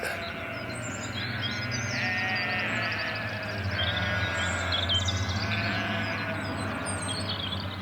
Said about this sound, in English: The sheep are none too happy with me